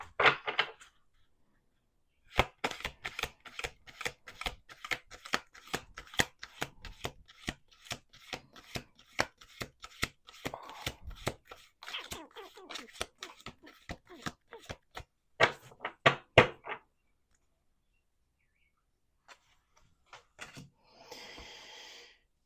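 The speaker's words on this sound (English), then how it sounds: "We're going to do one more shuffle." A deck of tarot cards is shuffled by hand in a reading, long runs of rapid crisp riffling clicks close up, broken by brief pauses, then a soft rustle at the end.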